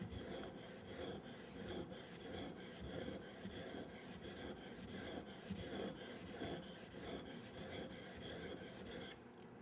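A skew chisel is honed on a sharpening stone in steady back-and-forth strokes, a close, dry rasping scrape repeating in an even rhythm about twice per second until it stops.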